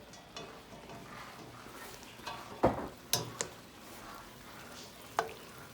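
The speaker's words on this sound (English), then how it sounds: "we're gonna add a little onion to this while he's stirring it" Onion being added to a homemade stew and stirred, a quiet simmering background broken by a few sharp clicks and clanks of a utensil against the pot.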